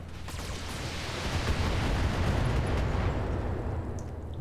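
Long range missiles launching and detonating in the BattleTech mech game, a dense, continuous roar of overlapping blasts and rumble that swells after the first second and holds loud to the end, with no talking.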